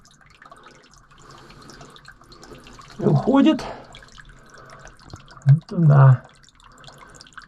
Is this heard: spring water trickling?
yes